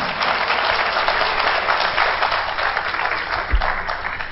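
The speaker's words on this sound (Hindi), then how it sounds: "थोड़े ताली बजे दो" A crowd watching a village stage play in Odisha applauds, a steady, fairly loud roar of many clapping hands throughout, with a single low thump near the end.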